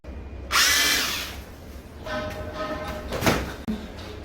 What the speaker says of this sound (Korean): 교반을 어느 정도 잘 부드럽게 풀어준 다음에